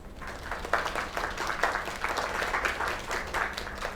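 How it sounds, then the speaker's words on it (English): A game crowd applauds at a singing performance in Lake, steady clapping at moderate loudness with no talk over it. "Another round of applause."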